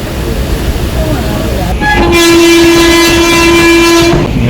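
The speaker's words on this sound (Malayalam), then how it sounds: "നമ്മുടെ ട്രെയിൻ ഇവിടുന്ന് കണ്ണൂർ സ്റ്റേഷനിൽ എടുത്തു." Train departing Kannur station, with a loud rumbling train that is joined midway by a long, sustained horn blast, all close and heavy, with rolling rail noise throughout.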